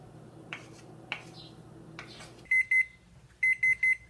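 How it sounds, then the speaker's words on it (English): Kitchen oven timer going off, a few soft clicks and shuffling sounds, then two bursts of loud, sharp, high-pitched electronic beeps, the second with three beeps, heard alone. "There's the timer."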